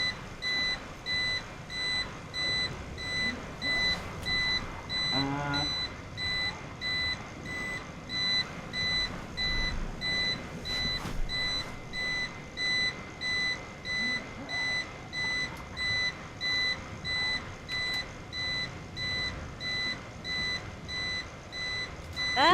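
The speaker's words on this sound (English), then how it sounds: "that's my UPS that's beeping" A UPS battery backup beeps in a steady repeating pattern of short regular tones throughout, moderately loud against a low indoor hum, with a voice briefly heard in the background.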